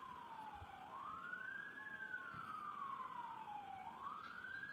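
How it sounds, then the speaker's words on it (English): A police siren wails steadily in a rising and falling sweep, fairly distant and faint against a background hiss, with no talking over it. "For the sirens."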